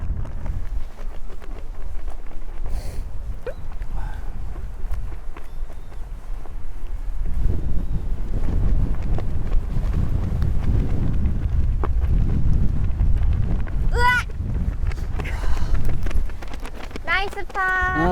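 Strong gusty wind buffets the microphone on a golf course, a steady low rumble running throughout, with occasional voices and a few brief bird chirps near the end.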